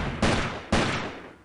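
Two sharp bursts of gunfire from hostile soldiers in the Delta Force 2 video game, each a loud crack with a ringing tail, the second following about half a second after the first.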